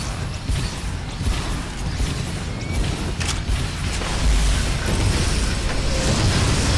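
Missile explosions in the video game Shadow Complex, a continuous run of deep booms and bursts rolling over one another with a heavy low rumble that grows slightly louder toward the end.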